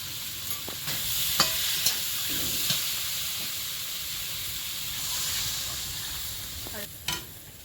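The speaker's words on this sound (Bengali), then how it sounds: "এদিকে কচু শাকটা কিন্তু অনবরত নেড়ে যেতে হবে নাহলে তলায় লেগে যাবে" Taro greens and prawns stirred in a pan over a steady low sizzle, with a few sharp scrapes and clatters of the spoon against the metal.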